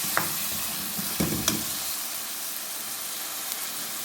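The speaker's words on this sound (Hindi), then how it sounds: "आलू शामिल करने के बाद आप इसको 5 से 10 मिनट के लिए और भूनें।" Potatoes frying in masala for aloo methi sabzi sizzle softly in a pan, with a few sharp scrapes and knocks from a stirring spoon near the start, then a quieter steady hiss.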